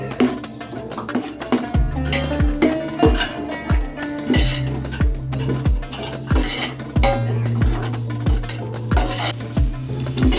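Spicy chicken biryani masala is stirred in a pot, a metal spoon scraping and clanking against the sides in a steady repeated rhythm over a low sizzle, with no talking.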